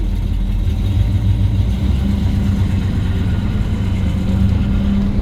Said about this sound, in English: I love the rumble of the exhaust.